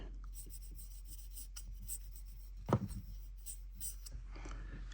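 Soft, close rubbing strokes of Turtle Wax being worked onto a model railroad car, faint and hushed, with one slightly louder scuff midway through.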